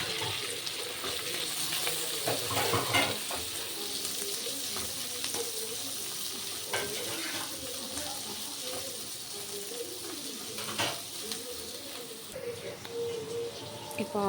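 Onion, ginger garlic paste and curry leaves fry in a pan for vazhakkai podi, a steady, fairly loud hiss and crackle that carries on throughout with faint clinks.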